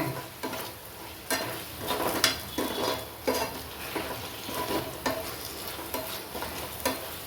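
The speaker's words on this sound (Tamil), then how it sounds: "கொஞ்சம் வதங்கட்டும். இந்த வெங்காயம் நல்லா வதங்கிட்டு" Onions sauté in a pan for honey chicken with a light sizzle, broken by repeated scraping strokes of a spoon stirring against the metal at a loose, irregular pace.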